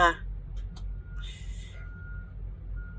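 A truck's reversing alarm gives a few steady, fairly distant beeps over low engine rumble, with a short hiss that sounds like an air brake.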